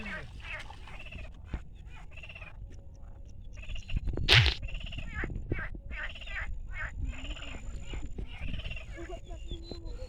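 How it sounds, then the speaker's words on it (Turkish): A large frog croaks by a lake at a campsite, giving a steady run of pulsed, rhythmic calls throughout, with one louder burst of noise near the middle. "Aa kocaman kurbağa."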